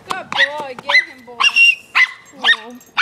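Dog barking and yipping in a series of sharp, high-pitched barks, close and loud, with a person's voice talking and urging between and under the barks.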